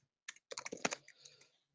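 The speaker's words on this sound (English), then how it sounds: "So we invoke K6 by typing K6" Quiet, close keystrokes on a computer keyboard as a K6 run command is entered: a short isolated tap, then a quick cluster of clicks that trails off into silence.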